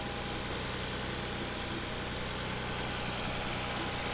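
A Nissan VG30DE twin-cam V6 in a 1993 Nissan Fairlady Z runs at a steady idle, a constant even drone heard alone.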